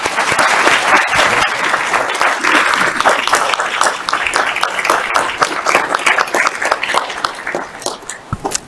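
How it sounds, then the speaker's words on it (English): Symposium audience giving a round of applause after a renewable energy panel, loud, full clapping that runs steadily and tapers slightly toward the end. "Let's give a round of applause."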